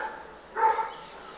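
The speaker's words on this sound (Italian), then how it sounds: "E poi tutti i cani che qua abbaiano sempre un casino." A single dog barks once in a garden, a short, moderately loud bark in the middle of an otherwise quiet stretch, heard at some distance.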